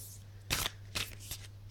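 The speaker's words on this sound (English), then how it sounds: "Let's shuffle them again." A deck of tarot cards is shuffled close up in three quick riffling bursts, with a low steady hum underneath.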